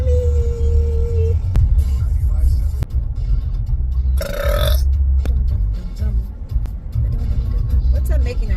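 A loud burp bursts out midway through, a short croaking belch heard inside a car amid a steady engine rumble, with people talking and brief clicks around it.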